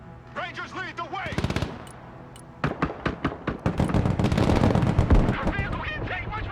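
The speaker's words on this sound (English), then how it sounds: "Suppressive fire!" Rapid bursts of automatic gunfire in the military strategy game Broken Arrow, dense cracking volleys building in intensity, with voices calling out over the shooting.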